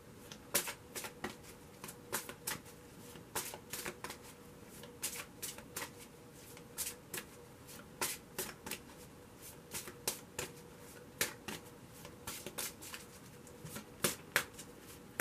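A tarot card deck is shuffled repeatedly, with soft, close riffles and snapping card sounds in a steady, uneven rhythm over a quiet background.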